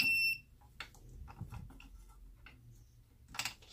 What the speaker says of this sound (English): So it starts beeping right away.